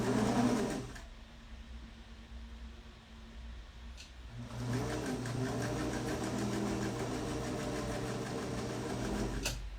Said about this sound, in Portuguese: Então, costuro aqui com meio pezinho de máquina.